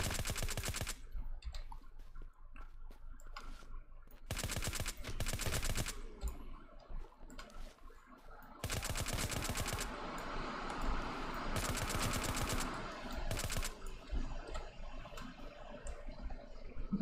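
Full-auto weapon fire in the zombie survival game Surroundead, several sustained bursts of rapid shots separated by short pauses, loud and close with no talking.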